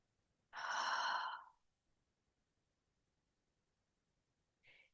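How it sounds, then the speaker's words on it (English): One long, deep breath, a clear drawn-in inhale lasting about a second close to the ear, followed by near silence and the start of a faint exhale at the very end. "let's take one deep breath together"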